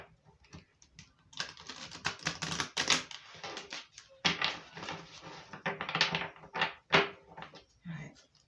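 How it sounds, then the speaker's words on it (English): Oracle cards being shuffled by hand, a dense run of crisp papery riffles and taps coming in bursts over several seconds, close up, with a little speech mixed in. "let's do another shuffle"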